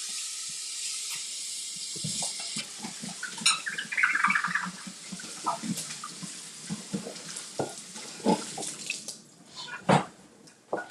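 A pie tin is washed under a running tap in a home kitchen, steady water hiss with bursts of splashing and clattering as the metal dish is handled, close and fairly quiet, no talking.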